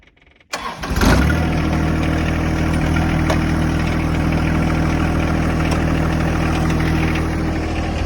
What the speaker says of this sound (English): The old tractor fired up.